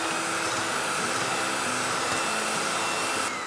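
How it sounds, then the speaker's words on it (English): An electric mixer running on high whirs steadily and loudly while beating eggs, a constant dense drone that stops abruptly near the end, with no talking. "Beat the eggs for around 2 to 3 minutes till they're really light and frothy, but make sure it's on high when you're doing it."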